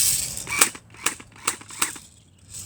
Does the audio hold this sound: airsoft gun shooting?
yes